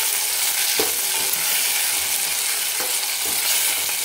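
A large country tomato dropped into spiced onion masala in a hot pan, giving a steady loud sizzle with a few scraping stirs of a spoon, and no voices.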